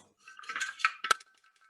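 A butterfly whisk clinks and scrapes against a container while stirring nuts, a brief cluster of light metallic taps, close and fairly quiet.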